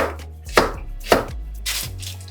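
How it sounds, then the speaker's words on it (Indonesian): Three sharp knife chops through an onion land on a cutting board at uneven intervals while bulgogi is being prepared, each one crisp and close, with quiet pauses between them. "untuk bawangnya 1 biji tak potong dikit gini ya"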